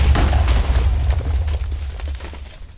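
TNT explosions in the Minecraft video game, a dense chain of heavy booms and crackling blasts that roll together without pause, loud and close with no voices.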